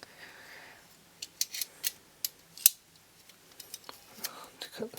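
Scissors snip at electrical tape while prototyping a coilgun, a series of sharp, close cutting clicks at irregular intervals, with quiet whispered speech in the background.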